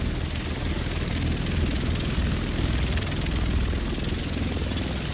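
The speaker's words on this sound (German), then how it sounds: "Der Rest von uns sitzt in diesem Heli." A helicopter in the video game The Division, its rotor and engine roaring steadily and loudly at close range, a dense continuous thrum filling the whole stretch without pause.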